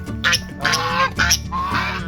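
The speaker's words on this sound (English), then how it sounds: "These two are what now? Chinese geese." Chinese geese honk loudly and close by in a quick series of harsh, nasal calls, several overlapping within a couple of seconds.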